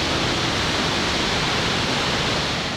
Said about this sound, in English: You see, smell, and hear the awesome roar of the falls.